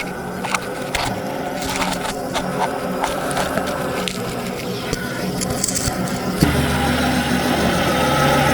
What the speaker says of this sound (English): let's show you guys some off-roading ability of the Tesla tractor